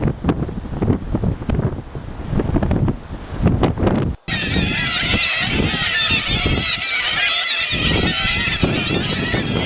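Black-legged kittiwakes call in a dense seabird colony on Prince Leopold Island in the Canadian High Arctic, a loud continuous chorus of overlapping cries under strong wind, following a gusty windy stretch.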